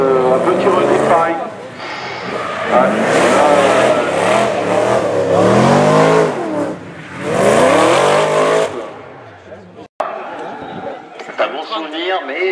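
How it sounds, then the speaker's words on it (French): The V8 LSA engine of a drift car revs hard and roars in long rising and falling bursts at a French drift championship at Calmont, with tire noise, close and dominant throughout. "Vraiment, on l'entend bien, le V8 LSA."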